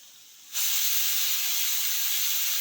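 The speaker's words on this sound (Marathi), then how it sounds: "आता आपल्या कुकरच्या दोन शिट्ट्या झालेल्या आहेत" A pressure cooker cooking rice pulao lets out a sudden loud, steady steam hiss that starts abruptly and holds strong right to the end, close to the microphone.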